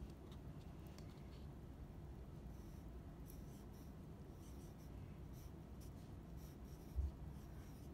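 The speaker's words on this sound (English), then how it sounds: "Let's write them in your notebook." A pencil writes in a paper notebook, giving a steady, quiet scratching that continues throughout with small bursts of strokes and no one speaking.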